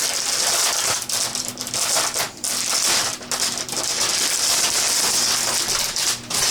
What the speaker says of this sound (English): It comes in this nice plastic bag, and opening the bag,